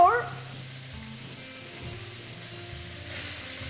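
Cauliflower florets sautéing in a pan, a soft steady sizzle running evenly throughout, fairly faint and close, with a brief knock at the start.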